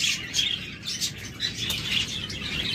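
Caged pet birds kept in pairs for sale chirp steadily in a busy high chorus, with bursts of wing flapping through it.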